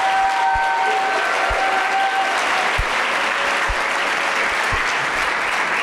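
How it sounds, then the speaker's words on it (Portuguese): A crowd claps steadily in sustained, loud applause that fills a church from start to finish. "Você pode dar uma salva de palmas a Jesus?"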